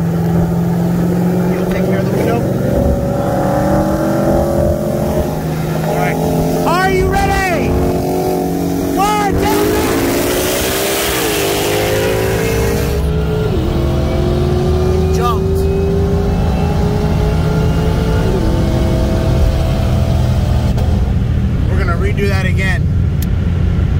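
2020 Shelby GT500 with bolt-ons on E85 and a built, supercharged 2012 Cadillac CTS-V race from a 60 mph roll, engines droning and rising steadily in pitch as they accelerate hard, loud and continuous, with people talking over the roar.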